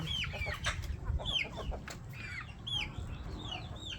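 Farm hens cluck in short, repeated, rising calls, fairly close and moderately loud over a low background rumble.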